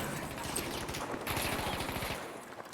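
Rapid gunfire in Battlefield V during a 5v5 squad conquest match on PC, a dense, fast rattle of shots running steadily for about three seconds at moderate loudness with no talk over it.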